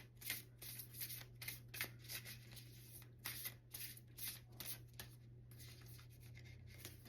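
A deck of reading cards is shuffled at length, with soft repeated rustling swishes of cards sliding together, faint and close over a low steady hum.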